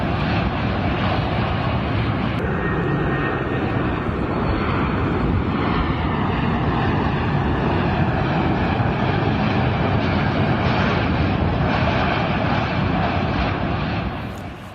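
Military aircraft flying overhead, a loud, continuous broadband engine roar that holds steady for about fourteen seconds before tapering slightly at the end, with no voices.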